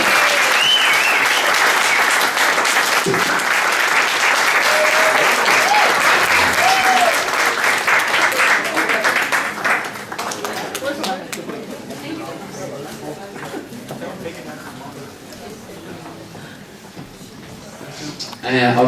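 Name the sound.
wedding guests applauding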